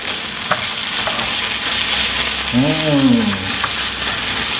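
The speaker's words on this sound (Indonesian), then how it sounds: "Kita aduk." Sambal chili sauce stirred and frying in a pan, a steady close sizzle with scraping stirs throughout and a brief tonal whine in the middle, no speech.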